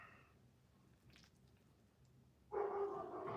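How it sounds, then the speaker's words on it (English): Several dogs bark in a burst near the end, loud and close, following a quieter stretch with a faint squeak, heard at a home Sunday gathering where shepherd's pie and Brazilian cheese bread are being served. "Dogs are going crazy."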